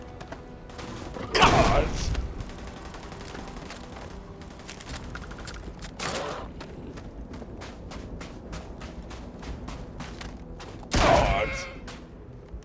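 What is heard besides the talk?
shotgun firing in the video game Starfield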